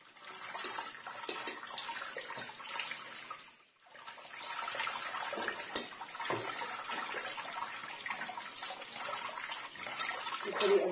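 Boiled chow mein noodles are rinsed under cold running tap water in a home kitchen, a steady splashing stream with a brief pause partway through.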